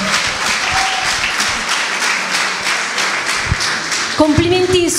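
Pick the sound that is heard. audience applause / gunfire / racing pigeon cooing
audience applause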